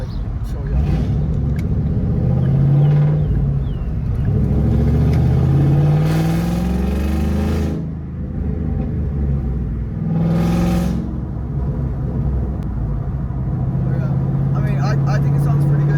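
Inside a Ford Mustang with straight-piped exhaust and loosely connected mufflers, a deep engine rumble drones throughout, with a few swelling revs and throttle surges, loud and close, while someone talks over it.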